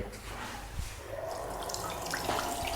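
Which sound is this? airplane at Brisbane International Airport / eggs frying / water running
water running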